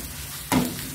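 Seasoned food being stir-fried in a pan gives a sudden burst of sizzling that starts abruptly halfway through and then settles into a steady hiss.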